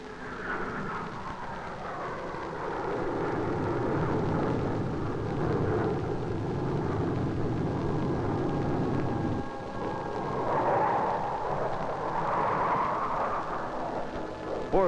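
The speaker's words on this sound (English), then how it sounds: "Reconnaissance aircraft join the exercise to perform functions similar to those of our recon aircraft." Soviet reconnaissance aircraft fly during a 1967 military exercise, giving a steady, heavy engine roar and broad rumble that holds throughout, with a brief dip before the drone swells again.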